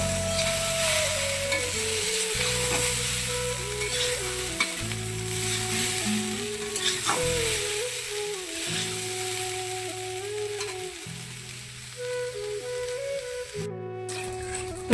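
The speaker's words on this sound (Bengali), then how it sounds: "এখানে করছি আলু ভাজা।" Potatoes fry in a kadai on a home stove, a loud continuous sizzle with crackling spikes and stirring scrapes, accompanied throughout by background music.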